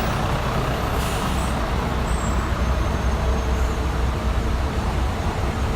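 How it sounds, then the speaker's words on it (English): Dense city traffic in Makati with diesel buses and trucks, a continuous loud roar of heavy engines close by, with brief hiss-like air brake releases and faint high squeals riding over the steady rumble. "This is just incredible traffic."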